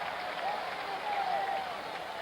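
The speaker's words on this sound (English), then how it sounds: "Didn't take long for this crowd to get something to cheer about" A baseball crowd at a 1975 World Series game between the Reds and the Red Sox roars steadily in a large ballpark. The cheering holds a broad, constant wash with faint whistles rising through it.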